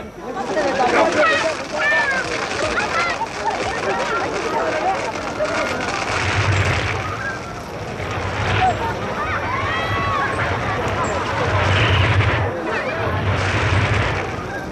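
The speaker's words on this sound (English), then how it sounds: "Under a blaze of firecrackers, the young people head for the center of the rice fields" Rapid crackling bursts of firecrackers pop continuously through a noisy outdoor crowd, with voices and shouting mixed in throughout.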